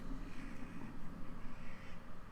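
Crows cawing during a dark fantasy tabletop role-playing session, a steady, moderately loud flutter-and-caw texture running throughout with no speech over it.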